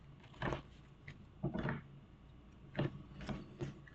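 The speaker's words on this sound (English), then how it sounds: "All right, one more shuffle." Tarot cards being shuffled by hand in a quiet room, heard as several short, close papery riffling bursts separated by brief pauses.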